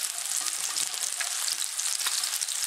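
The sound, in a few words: stirring food with garlic powder in pan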